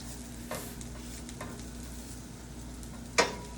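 Sausages sizzle gently in a skillet over a low flame, a soft continuous frying hiss with faint clicks and a sharp utensil tap near the end, no talking.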